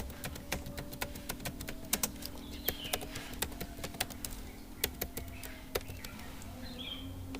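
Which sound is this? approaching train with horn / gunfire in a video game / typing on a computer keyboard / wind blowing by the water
typing on a computer keyboard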